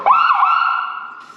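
A loud electronic siren mounted on a race car, switched on by a button in an armored case, blares a steady high-pitched wail close by for over a second, fading slightly toward the end with no voices.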